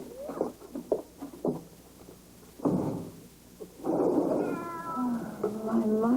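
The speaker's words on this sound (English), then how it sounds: "Oh, the poor kitty must be cold out there." A cat meows outside in the cold, a series of short plaintive meows followed by a longer, drawn-out wavering cry, fairly close and clear, with no talk over it.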